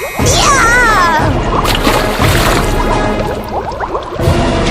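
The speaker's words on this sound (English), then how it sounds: "The old witch fell into the boiling water" A heavy splash into a pot of boiling water comes as a messy burst of sloshing and dripping liquid, loud and close, followed by bubbling and spattering over several seconds.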